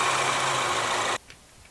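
A 2016 Ford Mustang's 2.3-liter four-cylinder EcoBoost engine runs at a steady idle, close and fairly loud with a broad, even hum, then cuts off abruptly after about a second, leaving faint background noise.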